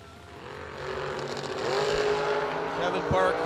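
Drag racing cars, a 1963 Chevrolet Nova and a 1973 Chevrolet Camaro, roar down the strip at a fall brawl event, a loud sustained engine drone that swells over a few seconds while a commentator talks over it.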